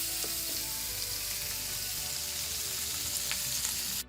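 Steady, even sizzling of potato wedges browning in a hot pan, with faint crackles and no talking, cutting off abruptly at the end.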